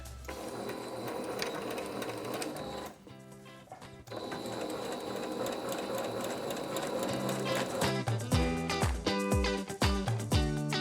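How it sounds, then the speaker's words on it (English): A sewing machine stitches down the opened pleats on a skirt, its steady close mechanical whirr running continuously, then breaking into short rapid bursts of stitching toward the end. "So now we're going to go ahead and sew those pleats back down that we opened up on our skirt."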